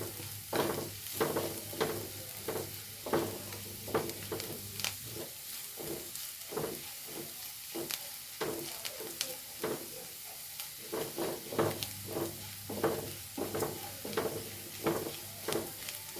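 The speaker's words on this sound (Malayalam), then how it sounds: "ഒന്ന് ഇളക്കി കൊടുക്കാം" Onions with a pinch of turmeric get stirred in a frying pan for a drumstick-leaf and chicken stir-fry, a spoon scraping in repeated rhythmic strokes over a steady close sizzle, with a low hum sounding in stretches.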